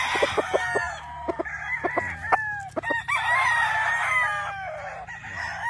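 A game fowl rooster on a gamefarm crows loudly and close by, with a long drawn-out call following a series of short clucks and clicks.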